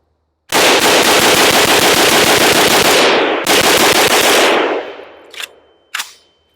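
An AK rifle fires a long, very loud sustained automatic burst with Twinkies crammed into the bolt handle slot. A short gap breaks the burst, then it resumes, trails off, and two single shots close it out.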